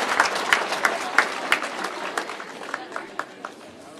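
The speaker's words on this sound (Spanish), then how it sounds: "Aplausos." Audience at a school program event in Oaxaca applauding, with scattered, uneven claps that gradually thin out and fade over a few seconds.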